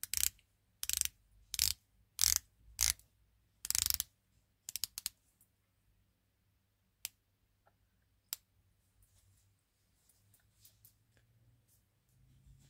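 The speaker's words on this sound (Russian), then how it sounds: "Керамический безель на 60 кликов." A rotating 60-click ceramic bezel on an Edox watch clicks in short, close ratcheting bursts over the first few seconds, then a few scattered quieter clicks follow with no one speaking.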